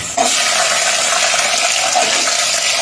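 Green chillies drop into a hot pot of matar pulao with onions, starting a sudden loud hiss that holds as a steady, close sizzle.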